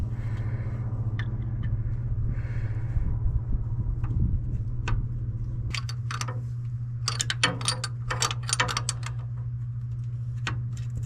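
Small metallic clicks and light taps as a Teflon-taped hose barb fitting is threaded into a fuel filter on a 2nd-gen Toyota 4Runner, sparse ticks scattered over a constant low hum, a denser cluster near the end, no voices.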